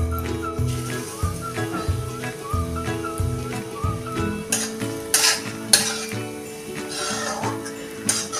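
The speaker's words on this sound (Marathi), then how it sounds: "त्यात आता हे खारीक पावडर आपण भाजून घ्यायचे" Dry date powder roasting in ghee in a pan, a steady soft sizzle broken by rhythmic scraping and clinking strokes of a spoon stirring.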